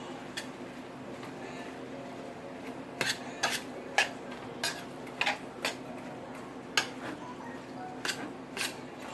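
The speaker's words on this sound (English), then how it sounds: "I'm just going to stir fry it till it gets done" Food stir-fried in a home kitchen pan, with soft, irregular clinks and scrapes of a utensil against the pan over a low, steady background hiss.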